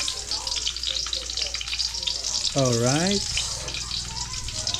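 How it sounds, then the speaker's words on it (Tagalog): Onion frying in hot cooking oil for adobo, a steady close sizzle throughout with a brief tonal sweep partway through. "naglagay na nga pala ako ng mantika. Sunod na natin yung sibuyas."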